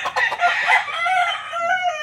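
A rooster crows loudly and close, its call stretching out, with chickens clucking around it.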